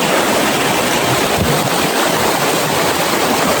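Rushing river current at a crossing on the way to a hidden waterfall in Tarlac, a steady loud broadband roar of flowing water close by, continuous and unbroken throughout with no voices.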